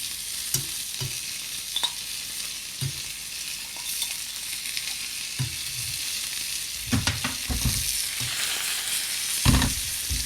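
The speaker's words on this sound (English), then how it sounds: "So, we're going to tilt the pan, use the pan to your advantage, and we're going to baste." A steak sizzles steadily in a tilted pan as it is basted with butter, with spoon scrapes and taps on the metal over a constant bright hiss.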